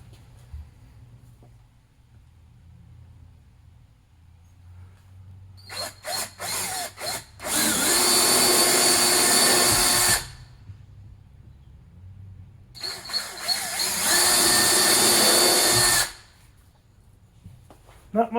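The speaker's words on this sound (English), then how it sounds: "It's fairly thin plastic, easy to drill in." Two sustained power-drill bursts bore pilot holes through thin plastic on a 2021 Ford Bronco, each whine lasting about three seconds, preceded by a few short trigger blips and set against quiet room background.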